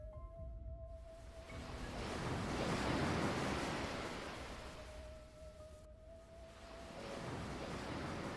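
Ocean waves surge and crash in two broad swells, a loud rolling wash of surf that rises, fades and builds again with no voices.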